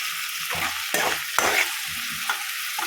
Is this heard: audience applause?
no